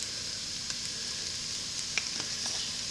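A pot of chicken stew thickened with flour, stirred steadily, gives a soft continuous sizzle and bubbling with a few faint scraping clicks, close up and alone.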